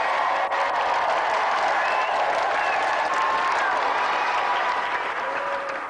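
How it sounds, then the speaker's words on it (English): A television game show studio audience gives a sustained round of applause, dense steady clapping mixed with some cheering that holds for several seconds without talking. "let's have a final round of applause"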